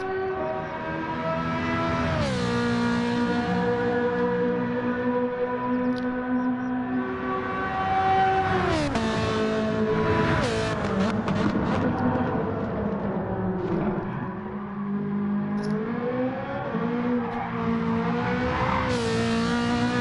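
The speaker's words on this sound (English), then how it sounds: "I just love the sound it makes when it downshifts." A racing car engine in Gran Turismo 7 roars loudly and continuously, with several abrupt pitch drops and climbs as it downshifts and revs back up, plus gear-change rattles, heard alone with no voices.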